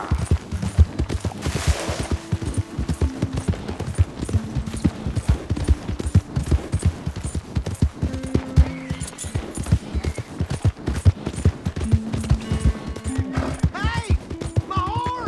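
Hooves clatter rapidly as a horse gallops in Red Dead Redemption 2, a steady rhythmic clip-clop running throughout alongside game music, with brief shouting over it.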